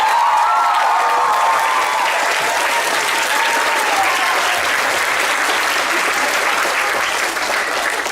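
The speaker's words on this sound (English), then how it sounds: "I think you should give your coaches a big round of applause" A crowd applauds the coaches at a 2024 SAISA girls' football awards ceremony, steady loud clapping with a few cheers sustained for about eight seconds, with no talk over it.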